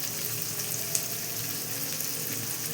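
Pieces of bochha fish fry in oil, producing a steady, even hiss of sizzling with occasional faint pops, moderately quiet and without talk.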